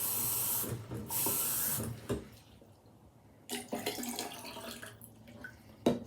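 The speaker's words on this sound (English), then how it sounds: "Dump the 5 gallon out. Pour 1 gallon into here. Fill it up again." Water pours and splashes between plastic gallon jugs in a classroom science demonstration, coming in loud bursts of running, gurgling flow separated by quieter pauses, with no talking.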